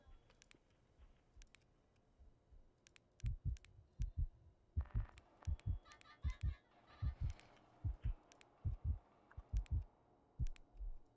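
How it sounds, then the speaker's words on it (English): Steady pulsing heartbeat effect in a Five Nights at Freddy's fan horror game, soft thumps at first then louder double beats repeating at a quick, regular rhythm with faint clicks above, no talking. "The heartbeats are insane."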